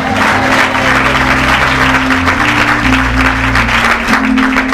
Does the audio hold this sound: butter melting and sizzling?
no